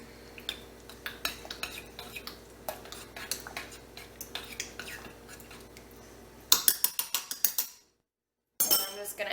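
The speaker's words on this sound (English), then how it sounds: "We're just going to stir this up." Pasta sauce stirred in a pot with a metal utensil, producing repeated clinking scrapes against the pot at a steady rhythm, close, followed by louder clanks, a brief silence and more clinking.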